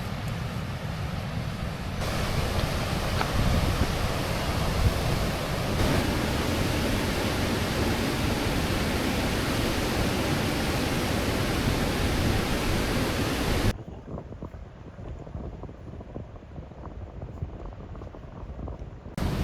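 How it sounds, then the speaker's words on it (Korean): The Jiktang waterfall on the frozen Hantan River, wide rather than tall, gives a dense, steady roar of rushing water that stays loud and close throughout, then drops to a softer hiss near the end. "직탕폭포는 높이보다 폭이 넓은 폭포로 유명해 한국의 나이아가라라고 불리우는데"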